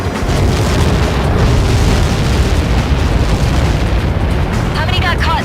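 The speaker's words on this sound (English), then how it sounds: "How many got caught in that explosion?" Explosion from a Helios projectile impact in the video game Ace Combat 7: a loud, sustained, roaring blast rumble filling the whole stretch, with voices partly over it.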